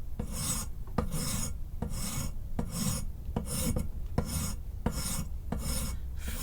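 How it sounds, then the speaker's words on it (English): A rasp files down a wooden guitar nut or bridge at the workbench: steady, rhythmic back-and-forth strokes, about eight of them, each a loud, close, gritty scrape with no talking. "Filing away."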